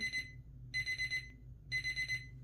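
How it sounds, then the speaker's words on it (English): A Mesqool digital projection alarm clock rings in three bursts of rapid, bright electronic beeps, each separated by a short pause. The sound is close and alone. "I'll show you after the alarm goes off"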